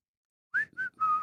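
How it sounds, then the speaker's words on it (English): A person whistles into a radio microphone in a sports talk studio, three short clear notes, a rising chirp, a brief tone and a longer held pitch, close and alone. "I can't whistle into microphones on the radio."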